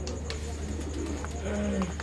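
Pigeons cooing in a loft in Karachi, a few soft low coos with one clearer, longer call near the end over a steady background hum.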